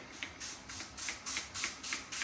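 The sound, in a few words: spraying spray margarine onto ribs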